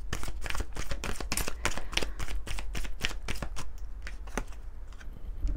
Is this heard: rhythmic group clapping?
no